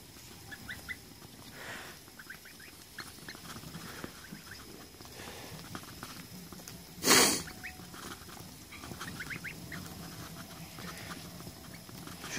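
Goslings (baby geese) in a coop make soft, scattered peeps and patter throughout, with a louder brief burst partway through; no one speaks.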